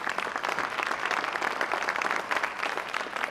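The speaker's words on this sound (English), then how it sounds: "let's give him a round of applause" Steady, dense applause from an audience at a state superintendents' professional collaborative gathering, honoring the State Superintendent of Public Instruction, Jack O'Connell. It runs evenly and continuously for a few seconds without a break, with no voices heard over it.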